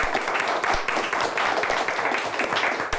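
Audience applause after a student team is introduced on a televised quiz show, steady dense clapping filling the whole stretch at even loudness with no voices.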